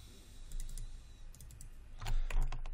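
Computer mouse clicking during 3D modelling work in Maya, a run of quick, close, crisp clicks in pairs and small bursts, loudest near the end, with no talk.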